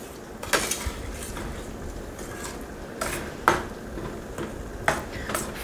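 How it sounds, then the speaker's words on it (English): A utensil scrapes and knocks against a pot of homemade BBQ sauce with packed brown sugar, a few distinct clinks spread out over a steady hiss, with no talking. "Bring the sauce to a boil and stir it all together."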